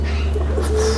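Pigeons cooing in a rooftop setting in the old city of Jammu, soft low calls heard briefly over a steady low hum.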